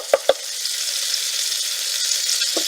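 Shallots or onions and garlic frying in a hot pan give a steady, close sizzle with a couple of sharp clinks from a utensil at the start and near the end.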